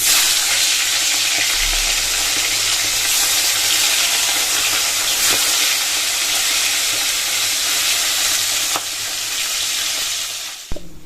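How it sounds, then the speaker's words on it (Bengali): Fish heads sizzle in hot oil in a pan, a steady loud frying hiss with crackles that continues throughout, a scrape of stirring now and then, and no talking. "এই দেখো বন্ধুরা তেল গরম হয়ে গেছে এখন আমি মাছের মাথাগুলো ভেজে নেব"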